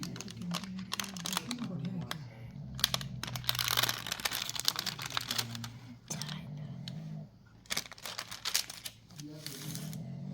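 Beads crackle and crinkle as a snowflake is peeled off a mold in quick, close bursts of small clicks and rustles, with brief pauses between them.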